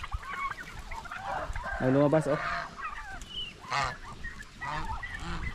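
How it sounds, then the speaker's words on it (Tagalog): Farm turkeys rush out through an opened pen door, their gobbling and clucking calls rising in short bursts amid yard noise, with a person speaking briefly nearby. "lumabas agad yung pabo"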